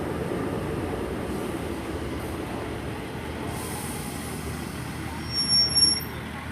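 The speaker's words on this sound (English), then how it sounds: "coming in now, we've got a service from Paignton to Exmouth" Class 143 Pacer diesel multiple unit arriving at a station on a Paignton to Exmouth service, a steady low rumble heard from a moderate distance with a brief squeal near the end.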